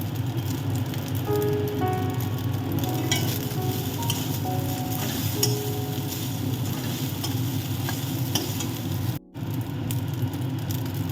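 Pasta tossed in a hot frying pan with spices, a loud continuous sizzle carrying repeated scraping stirs, and a brief dropout near the end.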